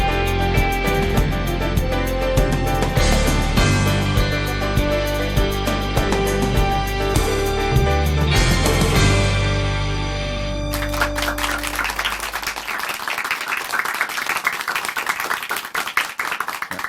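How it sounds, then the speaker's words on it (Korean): An audience claps together to welcome a university professor to a televised lecture, a steady wash of applause that takes over after tonal music fades out. "박수로 맞이해주세요."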